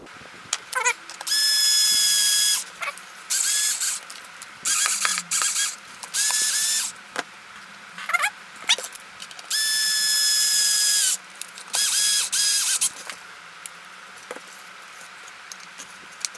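A power tool drives screws into a Traxxas XO-1 RC car in repeated bursts of high whirring and ratcheting, each lasting a second or two with short gaps, close up and with no talking.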